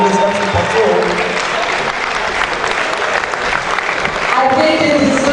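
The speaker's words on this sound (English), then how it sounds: "I think you deserve another round of applause, guys." An audience gives sustained, dense applause throughout at an Africa youth Scrabble championship gala and awards event, with crowd voices mixed into the steady clapping.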